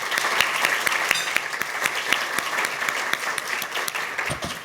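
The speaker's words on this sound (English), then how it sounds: "offer my thanks and just a round of applause" Audience applause after remarks by a city housing commissioner at a public event, steady and fairly close, with dense clapping holding at an even level for the whole stretch and no talk over it.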